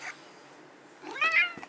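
A pet cat named Zorro meows indoors, one drawn-out, rising and falling call that comes near the end of a stretch of quiet room tone.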